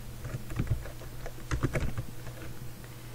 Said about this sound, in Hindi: यहाँ पे कुछ टाइप करते हैं।